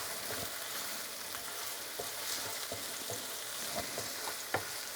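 Onion cooking in a pan for a creamy sausage pasta, a soft steady sizzle with occasional stirring scrapes and taps, fairly faint and without talk.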